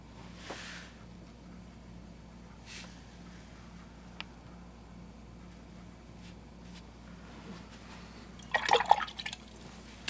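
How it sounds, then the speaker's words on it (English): A watercolor paintbrush is rinsed in a water jar, with faint scattered drips and taps before a brief burst of swishing and splashing near the end. It stays quiet and close, with no talking. "You can rinse off the brush, dry off the brush"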